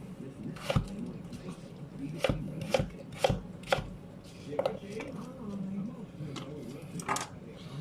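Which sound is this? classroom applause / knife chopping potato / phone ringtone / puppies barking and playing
knife chopping potato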